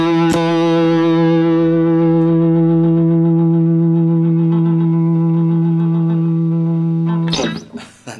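An electric guitar through the Neural DSP Archetype Cory Wong plugin with drive engaged rings out as one sustained, distorted chord for about seven seconds, loud and close, ending with a brief scrape of string noise.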